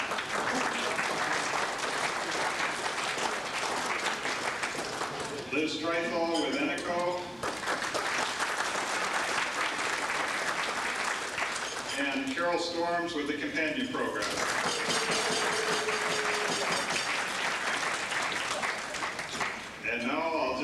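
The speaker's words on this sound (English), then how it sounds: "I was wondering if you would join me in a collective applause" A conference audience applauds in a steady wash of clapping that runs the whole stretch, while a speaker's amplified voice keeps talking over it at intervals.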